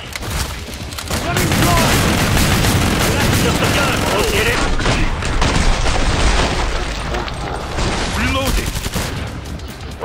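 Rapid, loud gunfire from the video game Killing Floor 2 rattles almost without a break through a chaotic firefight, with heavy booms mixed in and players' voices calling out now and then.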